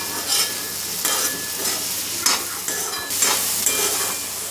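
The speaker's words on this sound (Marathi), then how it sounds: "चांगली तेलात परतून घ्यायची आपल्याला भाजी" Green okra (bhindi) sautéing in hot oil with garam masala, a steady sizzle broken by several scraping stirs of a spatula at roughly one-second intervals, close and fairly loud with no voices.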